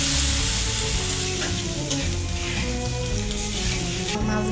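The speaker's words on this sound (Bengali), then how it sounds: "মশলাটা কষানো হয়ে গেছে" Spice masala sizzling loudly in a pan, with a steady, continuous hiss and crackle throughout that shifts slightly near the end, as when water is poured in.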